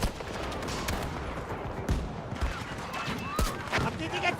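Rapid gunfire in a Battlefield game, a dense crackle of automatic shots with several sharp louder cracks, all under a steady bed of battle noise with voices mixed in.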